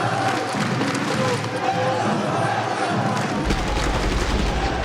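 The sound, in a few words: crowd cheering at Rainbow Six Siege esports event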